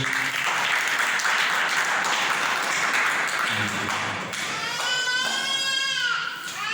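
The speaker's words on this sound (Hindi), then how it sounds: "बजाई ताली।" Children clap together at a winter spiritual study camp, a dense burst of applause filling most of the stretch before fading as an adult voice begins speaking near the end.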